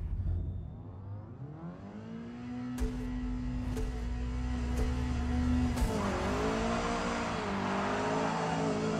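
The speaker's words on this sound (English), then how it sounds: "Lots of wheel spin, but we're away." A touring car launches off the line at Brands Hatch in a racing game, engine revving hard with wheel spin as the pitch climbs, a few sharp gear-change breaks, then steady acceleration, loud and close with no talk.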